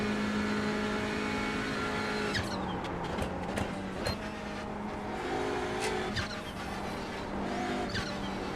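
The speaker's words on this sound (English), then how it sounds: "Faster car approaching. The LMP3s are on us." Race cars at a Daytona track event, a GT4 car with faster LMP3 prototypes closing in, roar along in a steady engine drone, with sharper passing whooshes and brief tire noises layered throughout.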